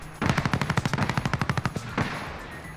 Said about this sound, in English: I keep hearing shots coming from over there.